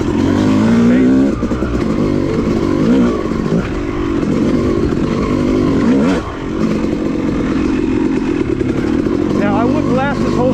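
A Yamaha YZ250 dirt bike rides through a set of whoops on a wet OHV woods trail. The loud, close engine rises and falls in repeated revs as the bike crosses each bump.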